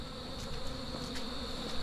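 A dense, steady hum of many honey bees buzzing as they are bumped into a new hive box during a transfer in the Philippines, close and continuous with no talking.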